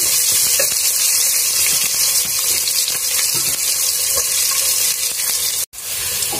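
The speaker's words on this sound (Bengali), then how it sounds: "পেঁয়াজ একটু ভাজা ভাজা করে নিই।" Onion fries in a pan of oil, a dense, even sizzle with faint stirring taps, ending with a brief dropout.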